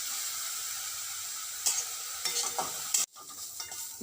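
Beetroot roasting and being stirred in a pan for kheer, giving a steady soft sizzle with a few sharper scraping stirs, close up and with no talking.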